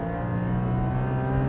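A Porsche 718 Cayman GT4's naturally aspirated flat-six engine on track drones loudly and steadily, with a dense harmonic growl holding at a constant pitch throughout, close and without any voices.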